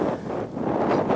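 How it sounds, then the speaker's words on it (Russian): Strong wind buffets the microphone outdoors, a continuous loud rumbling roar that swells and dips without pause. "у нас ветер."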